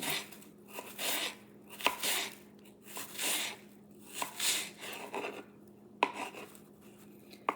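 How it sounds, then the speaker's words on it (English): A knife finely slices red onion for guacamole on a cutting board, making rhythmic bursts of crisp cutting strokes separated by short pauses, with occasional sharp taps of the blade on the board. "I like to put them in there, slice it up real fine"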